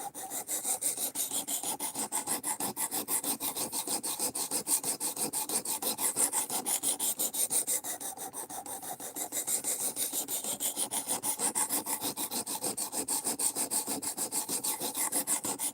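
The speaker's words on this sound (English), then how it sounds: "right now I'm just hogging off material to put the bevel where I like it" A steady, continuous rasping grind as a knife bevel is reshaped during sharpening, loud and close, with fast repetitive strokes and no speech.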